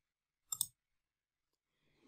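Two quick mouse clicks, close and fairly crisp, made while importing a file in qualitative analysis software on a computer; near silence follows, then faint rustling near the end.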